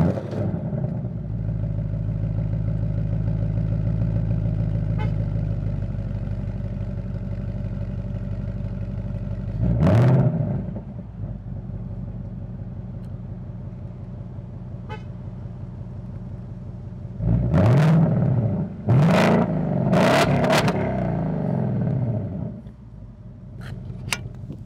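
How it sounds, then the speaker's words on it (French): A 2024 Ford Mustang GT idling with a steady low exhaust rumble, then blipped by remote key into sharp revs, one burst and then a cluster of three loud surges before settling back. "C'est pour vous faire écouter le son de l'échappement que j'apprécie et on a l'option Rev avec la télécommande"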